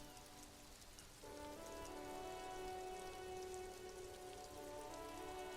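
Steady rain pours over city rooftops in the game Disco Elysium, a dense, continuous hiss of drops on surfaces with a soft musical drone growing beneath it partway through.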